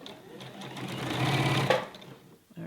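A sewing machine stitches stretchy T-shirt fabric for a raglan tee in one steady, moderately loud run of about two seconds, then stops and trails off.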